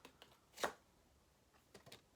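Tarot cards riffled in one quick, soft burst, with a couple of fainter card rustles a moment later in an otherwise quiet room.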